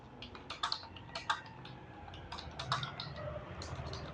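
Someone types Hindi text on a computer keyboard in MS Word 2003, producing faint, uneven runs of light key clicks with brief pauses and no talking.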